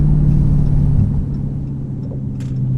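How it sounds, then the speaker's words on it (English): A Dodge Scat Pack engine in sport mode gives off a loud, deep, steady rumble from inside the car, holding a low droning note with slight fluctuations and no talk over it. "Ooh, see, and just in sport mode, you can tell a big difference in sound."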